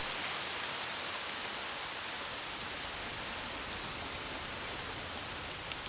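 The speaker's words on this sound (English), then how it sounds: "Oh, great. It's raining." Heavy rain in Lost Odyssey pours steadily and densely, a loud unbroken hiss that stays constant throughout with nothing else audible.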